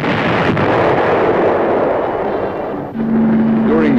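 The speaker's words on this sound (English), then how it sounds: "Tanks were used to keep the roads open at strategic points, firing to keep the enemy off balance." Tank guns firing at strategic road points during a military operation, heard as a loud continuous roar of booming gunfire and blasts, with a steady tone entering near the end.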